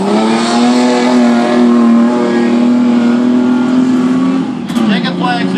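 A race car engine at Mt Beauty Speedway, Victoria, holds a loud, steady, close drone, then drops pitch abruptly near the end as the driver brakes hard into the hairpin, while a commentator's voice runs underneath.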